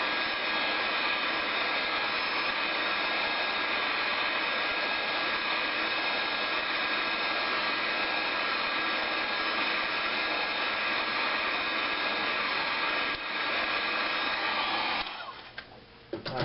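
A heat gun blows steadily for about fifteen seconds while warming a small Kydex strap for a belt loop, a loud, even whooshing roar that cuts off near the end.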